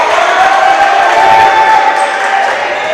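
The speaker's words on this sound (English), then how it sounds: "West Catholic bench cheering on this defensive possession" Bench players cheering loudly at a West Catholic high school basketball game during a defensive possession, a close, sustained roar of shouting voices over crowd noise.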